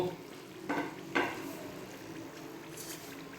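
Imarti, spirals of urad dal batter, frying in hot oil in a sweet-maker's kitchen, a steady soft sizzle with two brief louder stirring or turning bursts near the start, close by and without talk.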